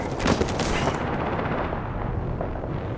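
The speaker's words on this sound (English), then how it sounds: "Hostile close. Opening fire." Rapid gunfire rattles through an Apex Legends firefight, a dense burst of close shots that continues steadily for a few seconds.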